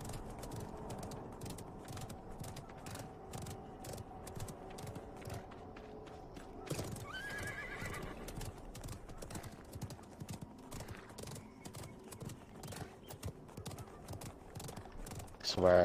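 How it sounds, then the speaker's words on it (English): Horse in a video game galloping in rapid rhythmic hoofbeats, with a whinny partway through and faint mechanical creaks, while a player talks over it. "Jump on your horse and move."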